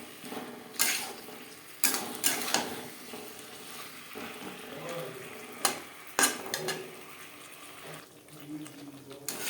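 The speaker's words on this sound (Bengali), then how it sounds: "মশলার সাথে আলু বেশ ভালো করে মিক্সড করে দেব" Spiced potatoes stirred in a pan for a thin Bengali rui fish curry cooked with little oil, a soft continuous sizzle broken by several sharp scraping clatters of the spoon against the pan.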